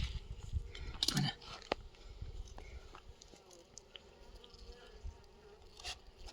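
Honeybees in an opened, taped-up hive box buzz faintly and continuously at close range, with a few louder handling knocks near the start.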